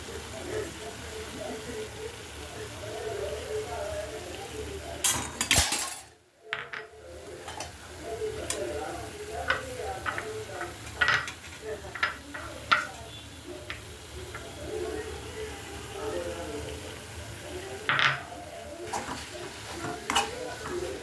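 A spoon stirs crushed peanuts into fenugreek greens in a pan with soft, intermittent scrapes and clicks against the metal over a low sizzle, close by, and a pause partway through.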